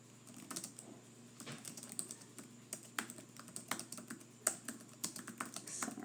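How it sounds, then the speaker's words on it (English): Fingers tap a computer keyboard in a quiet room: a steady stream of light, close key clicks in uneven bursts with brief pauses, faint overall and with no voices. "Just want to type that all out."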